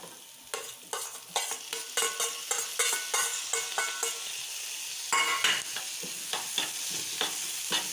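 Tomatoes are stirred into a frying dal masala, with rhythmic spoon scrapes and taps against the pan about twice a second over a steady hiss of frying.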